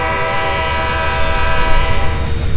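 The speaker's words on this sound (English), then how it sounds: "I'm gonna let the train pass through here" A train rolls through in the Trainz rail simulator game, loud and close, with a sustained tonal horn-like drone over rumbling wheels that swell louder toward the end; no talking.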